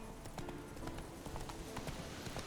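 Hooves of the horse Roach in the video game Witcher 3 clip-clop in a quick, steady trotting rhythm, moderately close over a dense ambient bed.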